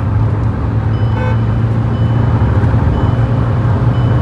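Kia Sonet 1.5 diesel manual accelerating on a highway, a steady loud low engine and road drone heard from inside the car, with a faint high beeping tone near the middle and no talk.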